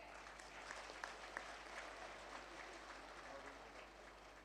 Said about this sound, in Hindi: उनके लिए एक बड़ा ताली तो हो जाए।